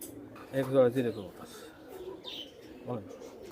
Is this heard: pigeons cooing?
yes